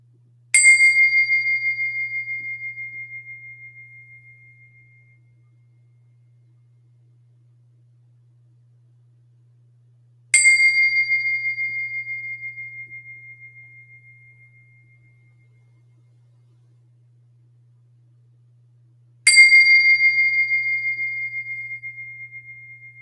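Three Tibetan bell strikes spaced about ten seconds apart, each a bright ring that decays slowly to near silence, heard alone over a faint low hum.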